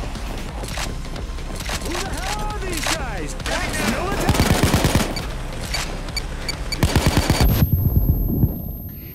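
Gunfire in Payday 2 played in VR, with bursts of rapid automatic fire and single shots that come and go over several seconds, loud and close, mixed with game noise while people talk over it.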